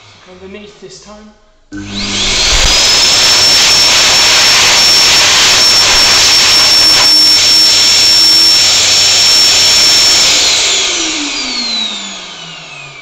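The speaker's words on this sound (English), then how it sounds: "That was a noise experience with the WorldDryer Airforce." A WorldDryer Airforce hand dryer switches on after a brief muffled bit of talk and blasts loudly and steadily with a high whine for about nine seconds before beginning to wind down.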